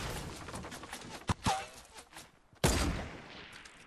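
Gunfire in a Fortnite squads battle royale match: a few sharp, loud shot cracks and short bursts that stand out over a busy, noisy game mix.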